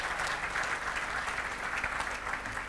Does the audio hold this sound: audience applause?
yes